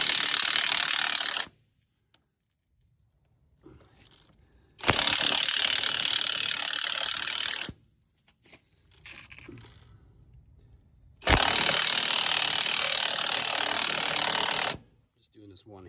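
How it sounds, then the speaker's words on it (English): A cordless drill pulsed on a tow truck's lug nut rattles in three loud bursts, each lasting a few seconds, separated by quiet pauses with faint handling noise. "I pulsate it so that it doesn't overheat my drill."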